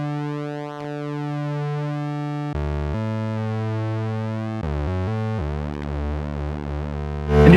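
A buzzy square-pulse tone from a Korg MS-10 synthesizer plays in stepped pitch changes, with the timbre wavering and sweeping as the pulse width is modulated, ending in a short burst of noise.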